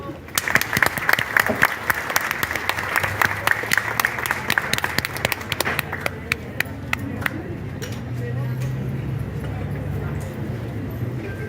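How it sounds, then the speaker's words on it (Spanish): A crowd at a memorial commemoration breaks into applause, sharp individual claps ringing out loud at first, then thinning into sparse scattered claps before fading into murmuring talk and room noise. "Un aplauso"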